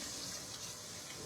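Water runs steadily from a tap into a sink for washing, a continuous broadband rush with no voices.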